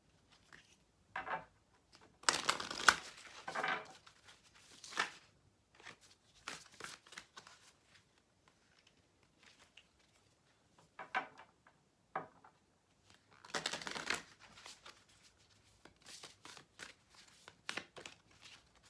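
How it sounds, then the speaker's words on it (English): Oversized tarot cards being shuffled by hand make scattered bursts of soft riffling and card slapping. The sound comes close and quiet, in irregular clusters, with pauses between them. "These cards are so big, it's hard to shuffle them."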